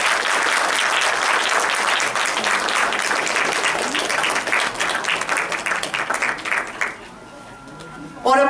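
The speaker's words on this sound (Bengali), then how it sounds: "আরেকবার জোরে হাততালি হয়ে যাক সবার জন্য।" An audience at a stage performance event gives loud, sustained applause that thins out toward the end. It gives way to a quieter tail and a brief burst at the very end.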